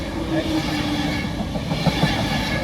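An Avanti West Coast Pendolino electric train bound for London rushes past near Lancaster, a steady loud rumble with faint clicking of wheels on rail joints.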